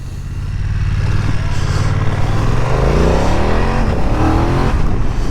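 A 2025 BMW F900R motorcycle engine revs hard on a rural road, a loud, close, continuous growl rising steadily in pitch with a throaty airbox honk at about 4,000 to 5,000 RPM.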